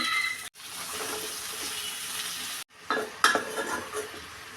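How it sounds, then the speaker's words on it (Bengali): Yardlong beans hit hot oil with fried onions in a pan for a prawn and bean curry, giving a loud continuous sizzle with brief breaks and a few stirring scrapes near the end. "তেল বেশি করে দিয়ে দিলাম এই তেলে বরবটি দিয়ে দিব"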